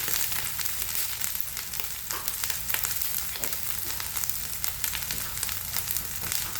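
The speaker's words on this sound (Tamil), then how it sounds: "டின் ஃபிஷ்ஷை சேர்த்து போட்டு கலந்து விடணும்" Tinned fish, packed in oil, sizzles and fries steadily in a pan as it is stirred into the mixture for fish cutlets, a dense continuous crackle with scraping throughout and no talk.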